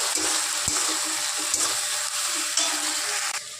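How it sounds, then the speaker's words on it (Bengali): Ginger, garlic and green chilli paste sizzles in hot oil as it is stirred for a fish curry, a continuous close frying hiss with a low background hum and occasional soft knocks of the spoon. "এবার একটু হালকা করে তেলের মধ্যে নেড়ে নেব।"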